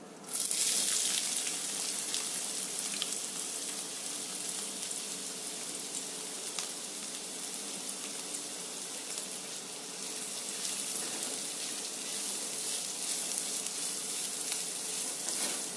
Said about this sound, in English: All I am doing right now is stir frying the onions.